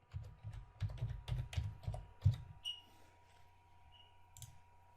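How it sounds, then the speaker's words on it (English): A password is typed on a computer keyboard: a quick run of close key clicks at an uneven rhythm, then a pause and one last isolated tap. "Enter your password here."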